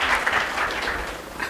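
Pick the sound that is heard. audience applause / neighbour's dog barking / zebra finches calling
audience applause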